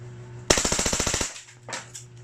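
An airsoft gun fires on full auto in one quick burst of about fifteen sharp, evenly spaced snaps, close and loud, followed by a couple of faint clicks and quiet.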